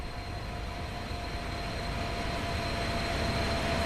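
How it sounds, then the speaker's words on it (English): A train rolls in at a station, a steady broadband rumble with a faint whine that grows slightly louder through the clip, with no talking. "Now the train should be here"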